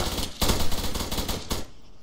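Airsoft gunfire during a skirmish game, several rapid bursts of sharp cracks close by, separated by short gaps and ending abruptly.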